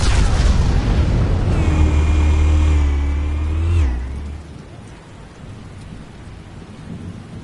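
A large explosion in the Batman Telltale Series video game: a heavy, sustained low rumble with a rising then falling whine, dropping away after a few seconds into a quieter rumbling tail.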